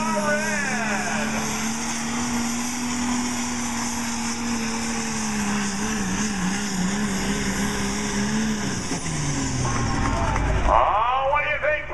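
A pulling truck's engine revs hard at a county fair truck pull, a sustained droning tone that drops in pitch near the end, with an announcer talking over it.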